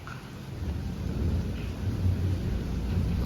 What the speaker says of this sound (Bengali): বৃষ্টি আর বৃষ্টি, পুরো আকাশ কালো হয়ে আছে